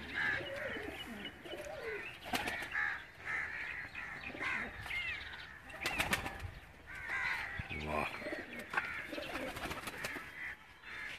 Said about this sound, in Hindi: उस्ताद दिलावर खान साहब मरहूम के घर के ये बड़े खूबसूरत कबूतर हैं